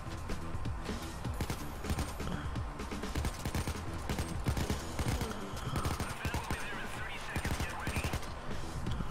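Rapid bursts of video game gunfire, many rounds fired in quick succession, loud and dense throughout with overlapping shots and a busy background.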